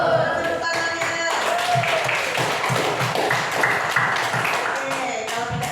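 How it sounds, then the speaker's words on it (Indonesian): Classroom applause for a student group after their performance, a scattered patter of hand claps running steadily at moderate level with voices talking over it. "Tepuk tangannya."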